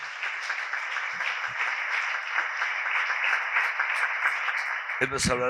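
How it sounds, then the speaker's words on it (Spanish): A hall audience applauds steadily in welcome of a doctor about to give a talk at a parish charity course; dense, even clapping fills the room and then gives way to a voice speaking at the very end. "recibimos entonces al doctor Roberto con un fuerte aplauso"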